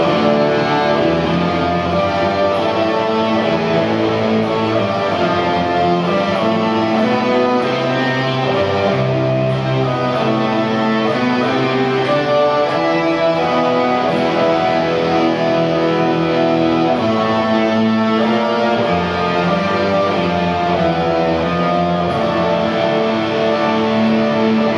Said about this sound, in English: One of my kooky effects that I got on my pedal board, I totally forgot to show you. It's the Electro Harmonix String 9.